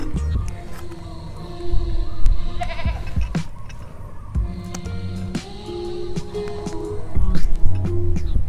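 Goat bleats recur over a cluttered outdoor farm scene, several voiced calls rising and falling at moderate distance amid other animal noise and background activity.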